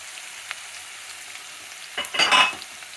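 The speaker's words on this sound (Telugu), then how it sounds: "ఆయిల్ వేడెక్కాక ఉల్లిపాయలు, పచ్చిమిరపకాయలు వేసుకోవాలండి. ఇది ఫ్రై అవ్వాలి బాగా." Onions and green chillies fry in hot oil with a soft steady sizzle, then a louder burst of stirring and scraping near the end, close by.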